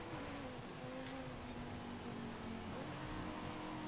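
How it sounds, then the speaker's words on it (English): A GTR race car overtaking in Forza Horizon 5 road racing, a steady engine drone with a slowly shifting pitch, held at even loudness throughout with no talk. "GTR's overtaking me."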